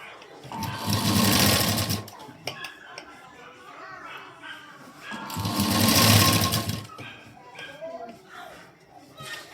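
Sewing machine stitching a folded piping strip along a garment neckline, two loud sustained motor-and-needle runs of about two seconds each, separated by quieter handling noise and faint voices.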